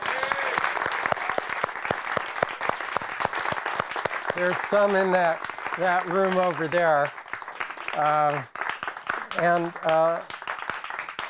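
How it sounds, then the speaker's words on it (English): Audience applause for volunteers at a community event, dense clapping throughout, with people talking over it in the second half. "I really would love if we could give them a round of applause"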